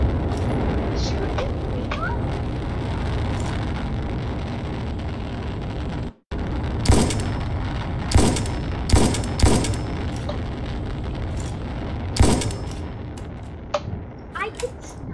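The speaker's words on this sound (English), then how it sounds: "I'm gonna use sniper rifle. Gonna shoot him out of this." Sniper rifle shots ring out in the video game Brick Rigs, several loud sharp cracks spaced a second or two apart over steady game noise, with a voice talking throughout.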